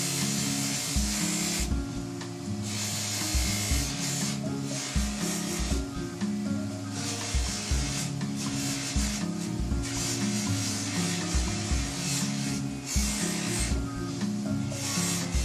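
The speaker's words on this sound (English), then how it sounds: "use the carnauba wax on a pipe like this" Hard carnauba wax being rubbed onto a tobacco pipe, a steady rhythmic dry scraping and buffing with repeated strokes, close and fairly loud throughout, no talking.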